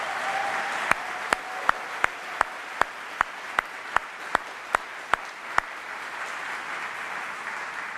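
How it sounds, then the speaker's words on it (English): Audience applause at a Navy boot camp graduation at Great Lakes, Illinois: a steady, dense wash of clapping across the whole stretch, punctuated by sharp, evenly spaced clicks. "So big round of applause for Michelle."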